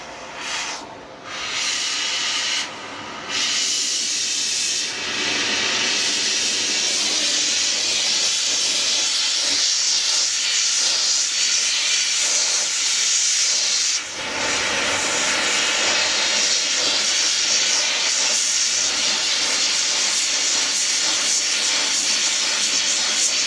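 A brazing torch roars with a steady, loud hiss while brass is run onto a copper lantern, broken by a couple of brief dips near the start and one short drop midway.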